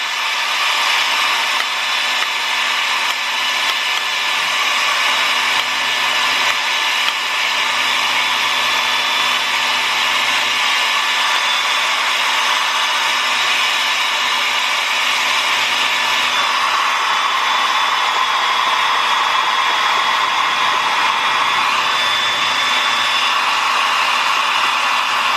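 A hair dryer blows steadily on a dog's coat during grooming, a loud, close, continuous whooshing whir lasting the whole stretch with no talking.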